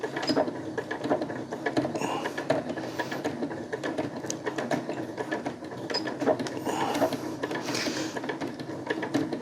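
A sewing machine runs a tight zigzag stitch through hammock tarp webbing, producing a continuous, busy mechanical rattle with rapid repeated needle strikes, close and steady throughout.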